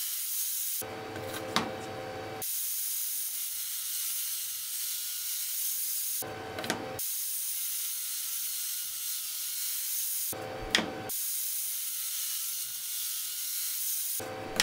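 A table saw rips the opposite edge of wooden strips in three separate cuts, each a brief roaring hiss over a steady background whir, with pauses between passes.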